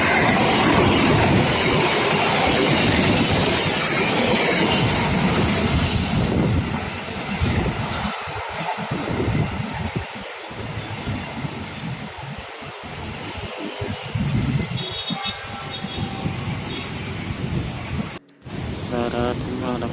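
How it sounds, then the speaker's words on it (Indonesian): A train hauled by a CC 206 locomotive, running from Semarang Tawang to Gambir, rushes past nearby with a loud, continuous roar and rhythmic wheel clatter, and a voice speaks over it. "Dari arah barat terlihat ada kereta yang akan melintas"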